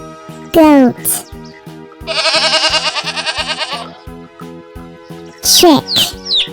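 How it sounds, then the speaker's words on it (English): A goat bleats once in a long, wavering, quavering cry at close range, set between short bright sound effects over a looping musical backing track. "Goat."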